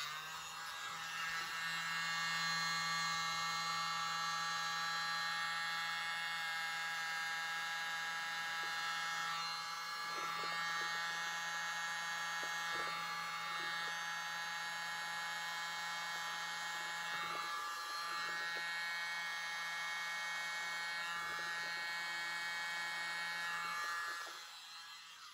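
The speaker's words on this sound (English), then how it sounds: "Here's my mini blower" A tiny electric blower whirs steadily and close for the whole stretch, a thin high buzz with a faint low hum beneath, aimed at poured acrylic paint.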